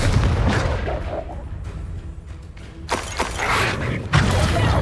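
Confringo fire spells blast again and again during combat in the video game Hogwarts Legacy. Loud, booming explosions punch through a dense wash of battle noise, with a heavier burst of blasts near the end.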